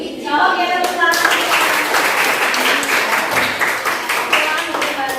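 A class in a school dance lesson on the Bedana Kreasi dance claps together in loud, dense, sustained applause, close by. A brief voice is heard just before the clapping begins.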